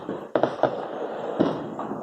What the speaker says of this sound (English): There's not bombs. There's explosions.